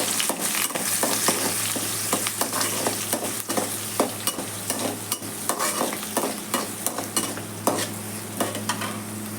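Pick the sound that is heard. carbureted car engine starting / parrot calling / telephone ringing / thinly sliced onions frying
thinly sliced onions frying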